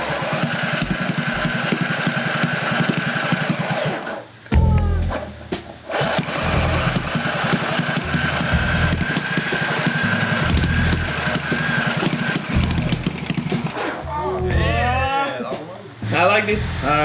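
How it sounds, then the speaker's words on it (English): A small Shell Eco-marathon team engine sputters and tries to start in short bursts of chugging, then runs rough and loud for a stretch, with voices talking over parts of it. "the engine is on the verge of starting"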